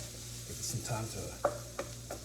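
Bacon and chopped carrots cooking in a pan, a steady close sizzle with stirring and a couple of sharp utensil knocks against the pan.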